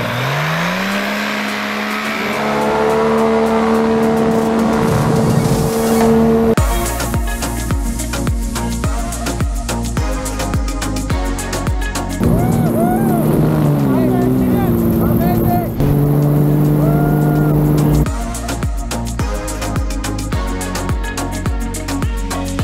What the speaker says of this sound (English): I am using a Microlet fixed wing engine in the paramotor.